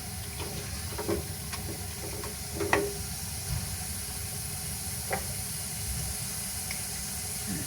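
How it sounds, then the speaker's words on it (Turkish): A soft, steady hiss of water heating in a cooking pot with fried tomato paste and tomatoes for pilaf, with faint bubbling pops and occasional light clinks. "Suyu da kaynıyor."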